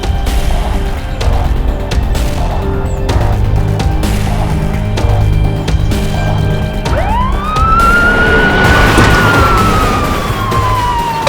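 A siren wails over the rumble of a car moving fast, its tone rising and sweeping through the second half, loud and close with steady traffic-like noise beneath.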